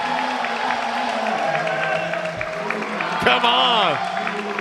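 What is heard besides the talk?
crowd cheering and applauding at a table tennis match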